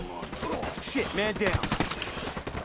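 Bursts of gunfire from the video game Ghost Recon Wildlands crackle in quick succession over a few seconds, mixed with excited voices talking over the shots.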